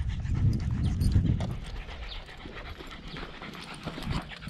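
Dogs panting hard on a warm walk through a park, quick rhythmic breaths close by, heaviest at first and then softer, with scuffling steps mixed in.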